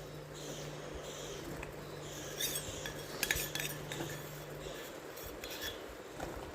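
Kaolin clay paste being stirred into melted soap base: soft scraping and light clinks of a utensil against a container, with irregular taps and a few sharper knocks midway, close and fairly quiet.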